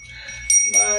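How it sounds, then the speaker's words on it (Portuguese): Small handheld bell ringing in two bright, close bursts after a quiet start, each jingle sustaining briefly with no speech over it. "Olha o sininho."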